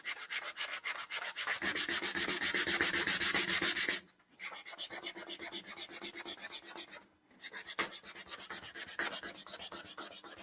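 Wood being hand-sanded with 120 grit sandpaper: steady, rapid back-and-forth rasping strokes, loud and close, with two brief pauses between passes and no talking.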